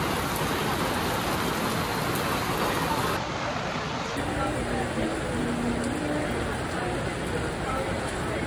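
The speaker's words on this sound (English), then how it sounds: "Rain may be coming down, but my spirits are up." Steady rain falls and patters on surfaces outdoors at a Disney theme park, a dense continuous hiss that carries on without a break, with faint traffic rumble beneath.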